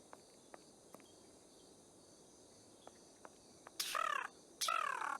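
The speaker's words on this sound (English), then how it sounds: "I hear a bird, Holmes." Harsh bird screeches in the Sherlock Holmes vs Arsene Lupin video game at the London Tower, two loud bursts near the end over a quiet insect-like chirring bed, with faint sparse clicks before them.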